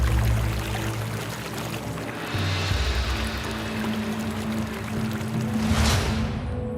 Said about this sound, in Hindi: बिहार में दूर तक बहती गंगा नदी।